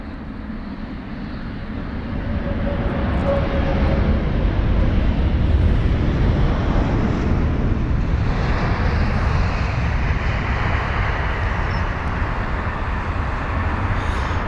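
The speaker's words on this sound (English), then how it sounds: "that was BA122, the British Airways 777-200ER from Doha" A British Airways Boeing 777-200ER at Heathrow, arriving from Doha, builds from a low rumble into a loud sustained jet roar that holds steady, then eases slightly toward the end, without speech.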